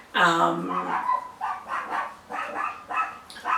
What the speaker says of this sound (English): The neighbour's dog has decided to join in this video.